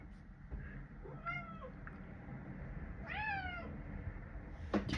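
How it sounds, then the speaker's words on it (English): Two drawn-out cat meows a couple of seconds apart, moderately loud and nearby, over a low background rumble. "Do you hear this cat?"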